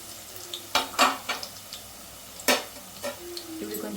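Ingredients for a chicken curry fry quietly in a pan: a soft sizzle runs under scattered scrapes and clinks of a spoon stirring against the metal, and the speaker talks in Telugu.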